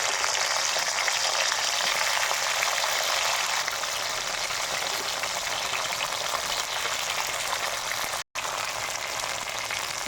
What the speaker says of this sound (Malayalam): വെളിച്ചെണ്ണയൊക്കെ ഒഴിച്ചു കൊടുത്ത് ചൂടായിട്ടുണ്ട് അതിലേക്ക് വെണ്ടയ്ക്ക കൊടുക്കാം